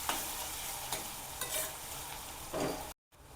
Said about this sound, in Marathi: चांगला कांदा असा गुलाबी कलर येईपर्यंत असा परतून घेऊया।